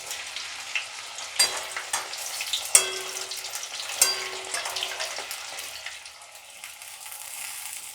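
Stuffed chili peppers sizzle and crackle steadily in hot oil, with a few sharper pops and utensil clinks rising above the continuous frying hiss, which eases slightly toward the end.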